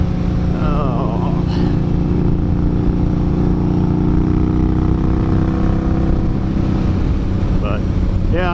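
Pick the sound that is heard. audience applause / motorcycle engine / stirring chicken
motorcycle engine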